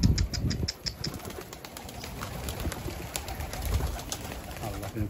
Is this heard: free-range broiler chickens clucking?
no